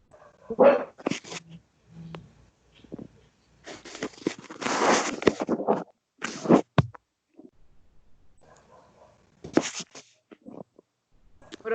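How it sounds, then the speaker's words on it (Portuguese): A dog barks in scattered short bursts with whimpers and yips between them, close by and moderately loud, with pauses of quiet and faint background sound. "Cachorro."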